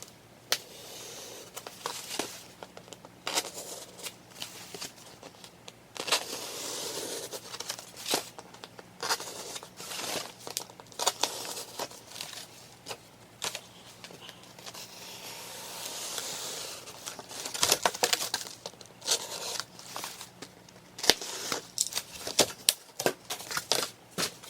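A box cutter slices through cardboard to cut out a number 1, giving quiet, scratchy crinkles and scraping strokes in uneven bursts, close by, amid handling rustles.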